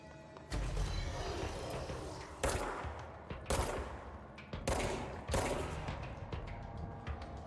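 Gunfire during combat in the video game Control, with bursts of shots in several loud, dense volleys separated by brief gaps, close and harsh.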